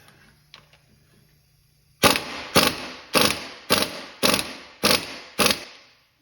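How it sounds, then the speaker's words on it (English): A ratchet tightens a bolt on a Dodge HEMI engine during camshaft installation, giving seven loud, evenly spaced ratcheting bursts after two seconds of near quiet. "Now we're going to take and install this bolt. We'll give it a couple uggas."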